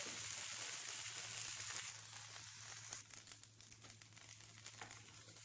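A rava dosa sizzles faintly on a hot tawa as it is turned, a steady soft hiss dotted with small crackles and pops that eases slightly partway through.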